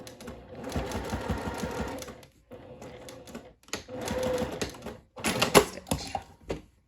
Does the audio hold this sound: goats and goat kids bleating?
no